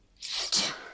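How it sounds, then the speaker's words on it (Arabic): One close, sharp sneeze bursts out after a brief pause and trails off, made by someone testing a face mask designed to close automatically when its wearer coughs or sneezes. "عطس"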